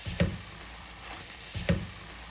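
Greens being stirred in a hot pan for a breakfast shakshuka, with a soft continuous sizzle and two distinct utensil knocks against the pan, fairly quiet and close.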